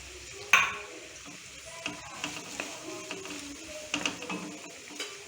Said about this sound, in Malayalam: ഇനി ഇതിലോട്ട് പകുതി സവാള ചേർത്ത് കൊടുക്കാം